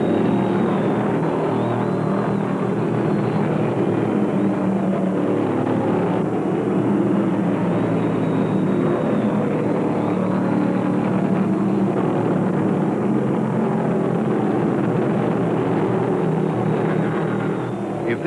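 A pack of 1975 NASCAR Winston Cup stock cars races at Rockingham during the Carolina 500, a steady, loud engine roar with a faint announcer voice beneath it.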